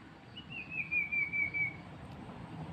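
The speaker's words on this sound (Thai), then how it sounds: "ย่องนกแน่เลยเพราะว่าเสียงนกมันร้อง" A single thin, high bird whistle rises and wavers for about a second, clear against a quiet outdoor background.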